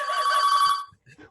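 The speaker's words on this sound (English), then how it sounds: "it's a phone ringing curiously behind me." A telephone bell rings loudly for nearly a second in an indoor room, followed by a few faint thuds and a brief murmur of voices.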